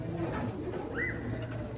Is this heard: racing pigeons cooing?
yes